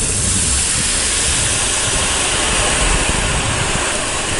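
Gram flour boondi batter deep frying in hot oil, a loud, dense, continuous sizzling hiss close by throughout, with no talk.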